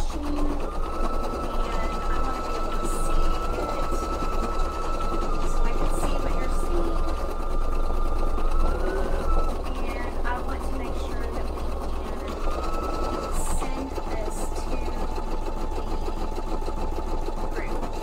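An embroidery sewing machine stitches lettering onto a minky zipper bag, a steady close mechanical whir with a fast rhythmic needle chatter that runs throughout, with a low motor hum underneath.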